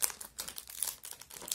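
Crinkling and rustling of a wrapped mini collectible package being opened, close and fairly quiet, continuous crumpling with small crackles for a second or two, no talking.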